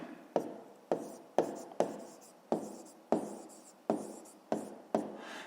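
Pen or pencil writing by hand on paper during a fifth-grade maths exercise, a steady run of about nine close, crisp strokes, each a sharp tap trailing into scratching, heard alone.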